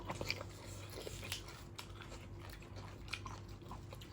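Close, soft chewing of boiled giant squid tentacle, with repeated moist bites and faint crunchy clicks in an uneven rhythm, no talk over it.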